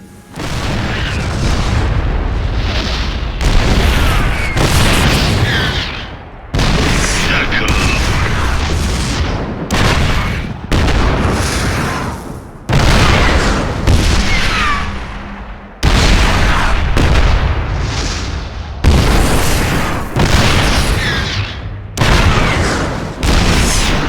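Heavy cannon booms from siege tanks in StarCraft II pound almost nonstop, loud overlapping blasts with brief gaps between volleys, like distant shelling in a battle.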